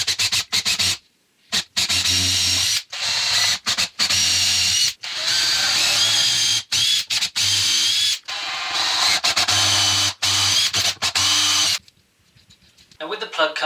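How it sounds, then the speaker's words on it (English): A power drill bores holes into an MDF window sill, its whine loud and steady in long bursts broken by brief pauses, followed by a quieter stretch at the end. "I've got the drill here which drills the right size hole"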